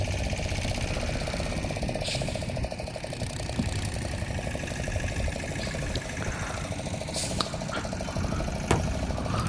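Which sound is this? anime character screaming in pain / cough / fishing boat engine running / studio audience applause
fishing boat engine running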